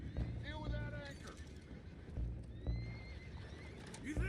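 Horses in Red Dead Redemption 2 whinny in several short, rising-falling calls, with hooves clopping beneath and faint background game noise, moderately loud and close.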